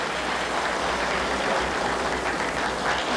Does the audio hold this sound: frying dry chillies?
no